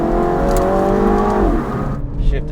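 An F56 Mini Cooper S engine revs hard and climbs steeply in pitch, then drops sharply at a gear shift, loud and close from inside the car, with a person speaking briefly.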